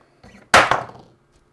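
A hard object dropped from a motorized camera rig lands with a sharp, loud impact and a quick rebound knock, preceded by a faint mechanical whir, then silence.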